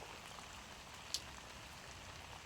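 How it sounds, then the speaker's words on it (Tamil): Light drizzling rain falling outdoors, a soft steady hiss with faint scattered drops and one brief louder tap, quiet and continuous with no talking. "மழை வந்து இங்கே தூரிக்கொண்டு"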